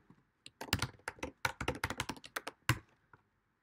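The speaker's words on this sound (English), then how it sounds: "So now what we can do is type things." Quick run of keystrokes on a computer keyboard while typing into a chat app, irregular clusters of clicks close to the mic, no talking.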